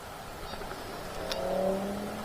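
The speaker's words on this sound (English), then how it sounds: "Yeah, that was traffic for sure." Distant road traffic near a farm on a quiet night, with a car engine's low hum rising and swelling gently as it passes far off, steady and faint.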